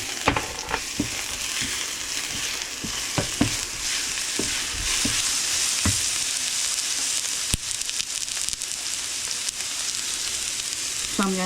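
Garlic with shiitake and oyster mushrooms stir-frying in a pan, giving a loud continuous sizzle with scattered clicks and scrapes from the utensil throughout.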